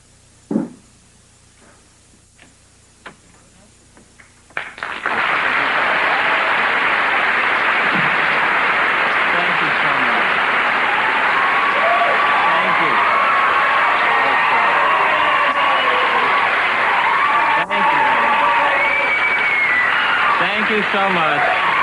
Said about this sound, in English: That was really a very slow build on the applause